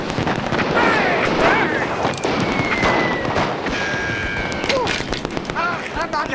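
Staged rebellion battle scene with blank gunfire: scattered sharp bangs and pops under shouting voices and busy background commotion.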